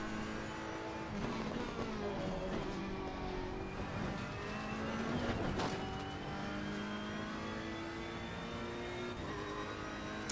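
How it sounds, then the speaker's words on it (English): A race car in a racing video game driving hard with continuous engine whine shifting in pitch as it accelerates and slides through corners, tire noise underneath, loud and steady with no talking. "I can just hear the car sliding"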